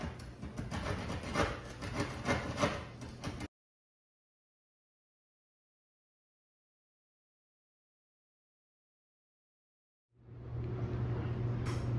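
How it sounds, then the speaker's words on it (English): A drywall saw cuts through drywall to make a return air vent opening, a close, rhythmic rasping of quick back-and-forth strokes that stops abruptly, followed by silence and then a low steady rumble. "So now we're going to use a drywall saw to cut that out."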